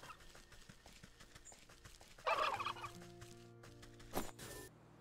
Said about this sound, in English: Stay away from the turkeys.